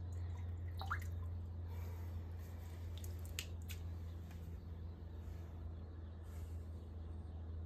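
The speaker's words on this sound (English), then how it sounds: "And then I will add water back to the tank." Water poured back into a planted aquarium tank with duckweed, heard as a close, steady trickle with scattered drips and splashes over a low constant hum.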